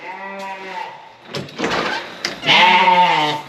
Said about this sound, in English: So, you guys know we have sheep, right?